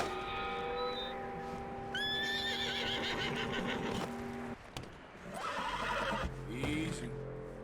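A horse in the video game Red Dead Redemption 2 lets out loud whinnies and snorts over a low ambient hum, close by, followed by a shorter neigh near the end.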